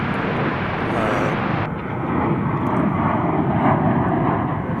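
An MD-11 cargo jet at DFW Airport makes a close, heavy engine rumble and rushing roar, with a brighter hiss that cuts out partway through before the low roar carries on.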